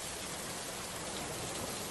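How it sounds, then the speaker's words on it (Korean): Steady rain sound effect added in editing, a dense even patter of drops filling the whole stretch at moderate level with no voices over it. "창밖에 비가 오는 느낌이 나죠"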